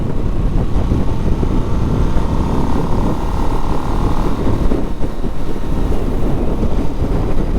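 A 2024 Harley-Davidson Nightster motorcycle cruising in fifth gear, its engine a steady continuous drone buried under heavy, constant wind rush across the microphone, with no pauses or shifts throughout.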